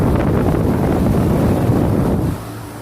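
A 2008 NuTone 2.5-ton central air conditioner running outdoors, a steady broadband whoosh of fan and compressor with a low hum that eases off slightly near the end, close and loud with no talking.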